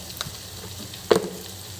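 Tomatoes and spices for a fish curry fry in a pan with a soft steady sizzle, broken by one sharper clatter of stirring partway through.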